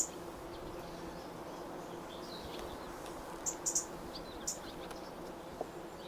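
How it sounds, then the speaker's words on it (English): Honey bees hum around an opened hive during a July beekeeping inspection at a community orchard, making a steady, close, continuous low buzz. A few brief high chirps break through near the middle. "the bees will get a bit more excited by my presence"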